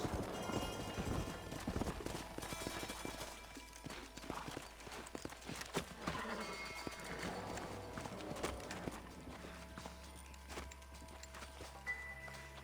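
Horse hooves clip-clop steadily across the ground amid a busy, layered soundscape with music and ambience in the video game Red Dead Redemption, the animal close by.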